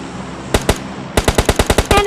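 M416 rifle fire in the PUBG Lite battle royale game: two sharp shots, then a rapid string of about eight loud, evenly spaced cracks, close and punchy.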